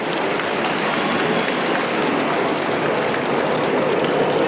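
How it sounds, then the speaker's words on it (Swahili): A large outdoor crowd at a Madaraka Day celebration at Uhuru Gardens applauds fighter jet pilots, producing dense, steady clapping that fills the whole stretch at high volume. "Tafadhali tuwapigie marubani wetu makofi."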